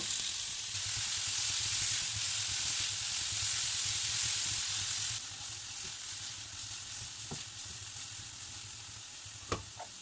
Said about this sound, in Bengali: সবজিগুলো 2 থেকে 3 মিনিটের মতো ভেজে নেব।